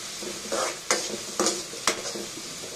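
Onion and green chili frying in oil for spicy vermicelli upma, a bright hissing sizzle broken by several distinct spatula strokes and clacks against the pan at roughly half-second intervals, up close.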